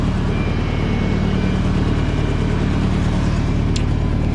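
A tractor of roughly 44 horsepower fitted with dual wheels runs steadily and loudly close by, its engine giving a constant low throbbing drone with no talk.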